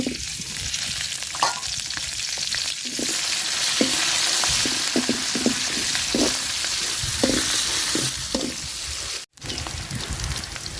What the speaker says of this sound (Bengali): মাছ ভাজার তেলে আমি পেঁয়াজ আর মরিচ কুচি দিয়ে দিলাম